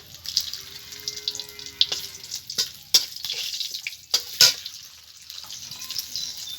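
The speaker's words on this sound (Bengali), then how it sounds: "ফোড়নে দিচ্ছি শুকনো লঙ্কা, দিয়ে দেবো তেজপাতা" Dried chilli and bay leaf dropped into hot oil in a pan, giving a light, close sizzle with scattered sharp pops and crackles and no talking.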